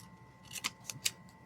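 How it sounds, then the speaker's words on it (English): Scissors snipping off a small torn piece of paper, three crisp close cuts spaced about a quarter second apart over a faint steady hum. "where's my scissors? Trim off this little piece that"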